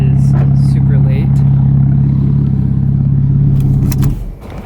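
A loud straight-piped Porsche Cayman S engine idles with a deep, steady rumble close up, then cuts off abruptly near the end, leaving quiet.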